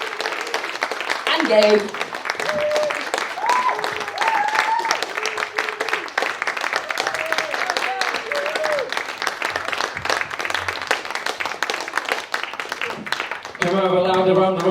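A festival audience at Liberty Festival Corby applauds and cheers after a live act, with sustained clapping and whoops throughout while a host talks over it near the start. Music briefly rises at the very end.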